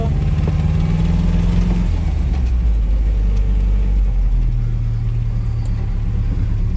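A 1960 MGA Coupe engine idles steadily near operating temperature, a close, even low rumble with a slight pitch shift partway through, heard alone without talk.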